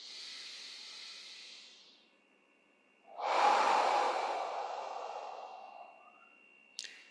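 A slow, deep breath from a relaxation exercise, lying face down in crocodile pose: a soft airy inhale, a pause, then a longer, louder hissing exhale that tapers away, with a brief click at the end.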